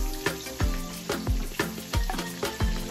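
Blanched vegetables, including peppers, land in a hot pan and sizzle loudly, with repeated sharp stirring scrapes and clatters at a regular rhythm over a continuous frying hiss.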